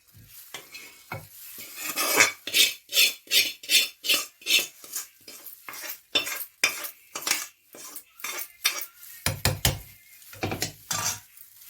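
A spoon stirs ginger garlic paste into oil in a pan with rhythmic, evenly spaced scraping strokes, close and fairly loud, with a few quicker clatters toward the end.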